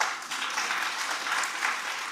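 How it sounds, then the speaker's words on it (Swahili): A gathered audience at an outdoor community event in Homa Bay, Kenya, breaks into sustained applause: a thick, continuous patter of many hands that stays even and fairly loud throughout. "Jipigieni makofi."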